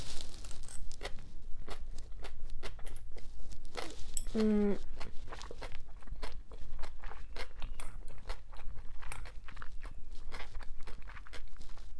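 Someone eats fresh garden cucumber in an egg salad, producing close, repeated crunching bites and chewing throughout. A brief squeaky sound appears partway through.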